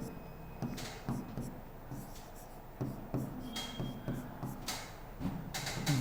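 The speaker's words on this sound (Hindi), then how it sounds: "तो ABCD में लिख देता हूँ एक बार के लिए" A pen scratches across paper while the English alphabet is written out, producing a series of short, close strokes with small pauses between letters and no talking.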